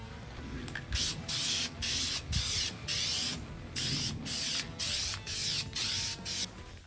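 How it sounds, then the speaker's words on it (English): Aerosol can spraying smoke-gray tint onto a lens in a series of about nine short hissing bursts, each roughly half a second, evenly spaced, close and fairly loud. "just after the initial spray, I can tell you that it's given it that smoke gray tint"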